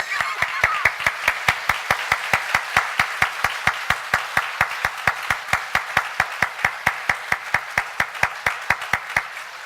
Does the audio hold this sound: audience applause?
yes